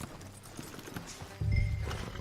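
Horses in Red Dead Redemption 2 being reined in on a road, a few hoof clops and snorts followed by a louder low rumbling burst, with faint game ambience.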